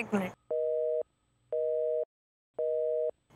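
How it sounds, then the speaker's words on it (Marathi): A telephone ringing in a Marathi TV serial scene, three evenly spaced electronic tone bursts, loud and close, after a brief snatch of voice at the start. "हे मला पण ऋतूचा फोन येतोय"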